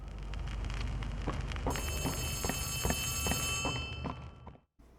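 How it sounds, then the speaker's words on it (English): An old telephone ringing in the Poppy Playtime game, a bright bell-like tone starting partway in and sustained, laid over steady rain-like noise with regular dull thuds like footsteps, fading near the end. "we hear Ollie calling from an old phone"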